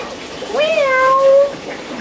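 A cat lets out a single drawn-out meow during a bath, close and loud, rising then holding steady before fading, with faint room noise around it.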